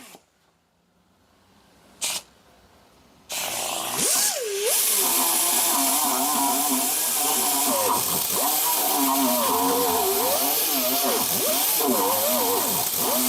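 A grinder cuts out an old suspension bushing on a 1968 Chevrolet Nova, spinning up after a quiet start and a brief bump into a loud, sustained harsh whine whose pitch dips and rises as it loads against the metal.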